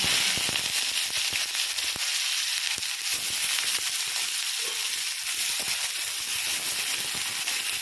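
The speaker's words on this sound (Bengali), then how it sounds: "পেঁয়াজটা বাদামি করে ভেজে নিচ্ছি" Onion and dried red chillies fry in hot oil with a steady, broad sizzle and hiss throughout, punctuated by small crackles and pops, close and fairly loud with no talking.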